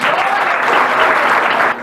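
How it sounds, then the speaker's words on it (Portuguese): A church congregation gives a short, loud round of applause, dense clapping that holds steady and then drops off abruptly at the end. "Dê uma salva de palmas, Senhor"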